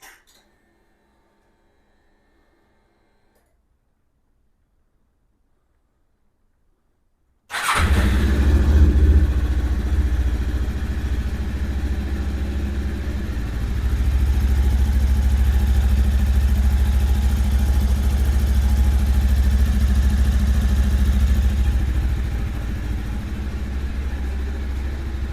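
A Lifan KPT 400cc motorcycle fires up after silence and settles into a steady, loud, low idle, continuing evenly close by with no talk.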